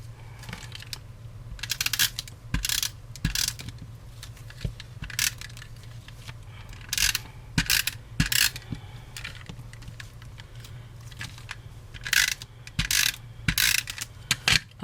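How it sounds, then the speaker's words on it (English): A snail adhesive tape runner rolled across paper gives repeated short clicking, ratcheting bursts in irregular clusters, close and fairly quiet over a faint steady hum, with no talk. "I'm just going to go ahead and use some of my snail adhesive."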